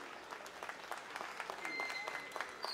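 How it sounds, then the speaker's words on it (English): Audience at a junior gilt livestock show in San Angelo breaks into sustained applause for an arriving guest speaker, a dense crowd of clapping hands at moderate distance with no clear talk. "please give him a round of applause"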